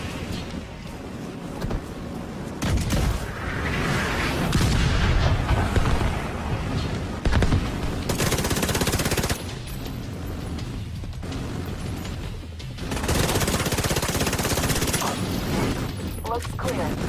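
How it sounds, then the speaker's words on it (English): Autocannon bursts and heavy gunfire in The Division 2 build into loud, dense, sustained volleys that rise and fall in waves across the battle, with mechanical clatter and layered combat noise throughout. "The autocannon seems to be firing blind."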